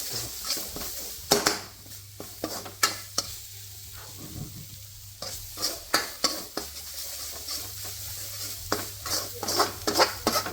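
Curry paste stir-fried in a pan for eel curry, a low steady sizzle broken by repeated sharp scrapes and knocks of a spatula against the pan in uneven bursts, close by and without speech.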